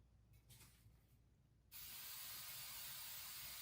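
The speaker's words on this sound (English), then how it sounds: "Again, I spray mine with inexpensive hairspray." An aerosol can of cheap hairspray sprays onto a model tree in one long, loud, steady hiss that starts abruptly after a quiet rustling pause and continues to the end.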